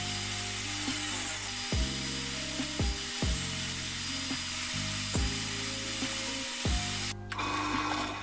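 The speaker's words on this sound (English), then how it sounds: "Cutting off some tabs with the table saw" A table saw whines loudly and continuously, its pitch dropping in repeated steps as it cuts off tabs, ending with a brief cut-off.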